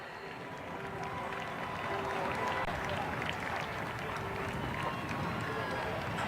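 Steady crowd applause from spectators at an Air Force Day parade, a dense continuous clapping wash that swells slightly and holds at a moderate, somewhat distant level.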